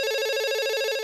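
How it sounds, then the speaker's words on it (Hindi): A telephone rings loudly and continuously in a Hindi-dubbed South Indian film scene, a bright electronic trill pulsing rapidly for the whole short moment with no talk over it. "होम मिनिस्टर का फोन भी आ गया।"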